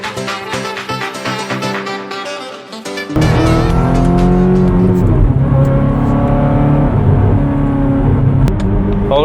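A Ferrari F430 fitted with an iPE exhaust pulls away loudly, its engine note jumping to a sustained, dense roar with rising harmonics after a quieter idling start, close and dominant throughout.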